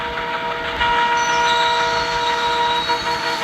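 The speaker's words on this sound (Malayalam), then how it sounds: "ഒറ്റ ട്രെയിൻ വന്നുകൊണ്ട് തന്നെ" A train rolls past at close range, carrying a steady broadband rumble of wheels and carriages with faint high metallic squeals, and no voices over it.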